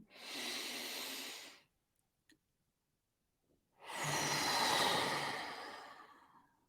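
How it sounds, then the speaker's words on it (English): A long, close, breathy inhale during a guided mindful breathing exercise, followed by a few seconds of near silence and then a second, deeper and longer breath that slowly fades. "Breathe in."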